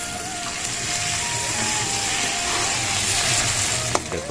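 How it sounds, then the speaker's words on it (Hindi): Pumpkin greens (makhna saag) fry in a pan with a steady, close sizzle that holds an even level throughout, with no one talking. "मखना के साग भुन जावत है"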